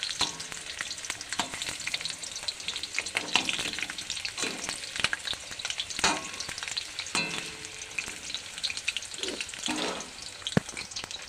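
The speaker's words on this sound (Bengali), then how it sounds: "এই তেলে আমি আলুগুলো ভেজে নেবো একটু লাল লাল করে" Potato pieces frying in hot oil give a dense, steady sizzle with crackling pops and occasional stirring scrapes, loud and close, with no talking.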